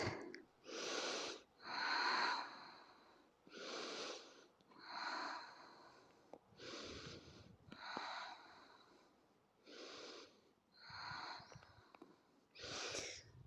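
Slow yoga breathing moving from kneeling into child's pose, about eight long, audible inhales and exhales in a steady, unhurried rhythm, close and fairly loud, with no talking.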